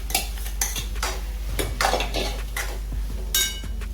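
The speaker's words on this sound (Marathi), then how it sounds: "ही शिजवलेली डाळ आहे ती टाकून देणार आहोत." Cooked dal going into a pan on a home kitchen stove, heard as close metal clinks of a spoon against the vessel and soft stirring scrapes over a faint background hum, with no one talking.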